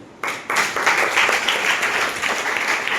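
Trainees entering a training session are greeted by an audience bursting into applause, a dense wash of clapping that starts abruptly and holds steady, fairly close and without talk.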